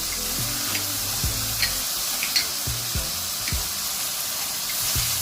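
Rice stir-fried in a pan with chili garlic sauce, soy sauce, chicken stock and garlic powder, a steady close sizzle broken by repeated scraping strokes of the spatula, with no talking.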